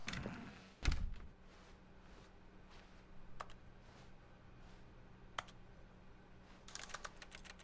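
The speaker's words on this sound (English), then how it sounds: "you can just spam use and it keeps making typing noises" Keyboard typing in The Stanley Parable, with scattered key clicks in irregular bursts and a louder thump near the start before a quick cluster of taps at the end.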